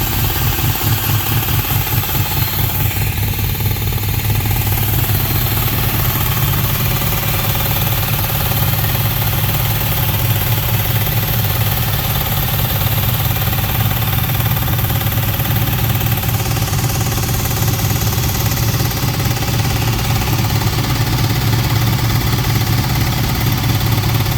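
A car engine idles loudly and steadily, close up, with a rough, uneven pulsing that suggests a possible misfire; no voices.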